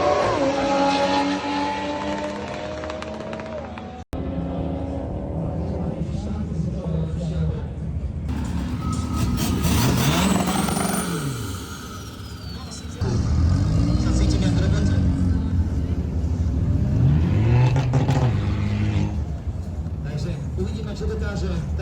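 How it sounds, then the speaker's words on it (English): An Audi RS6 drag races an Audi R8, with powerful engines roaring and revving hard through gear changes, loud and close, punctuated by a brief cutoff and rising, sweeping engine tones under occasional talk. "the first drag race was with the R8, who actually got me by one car."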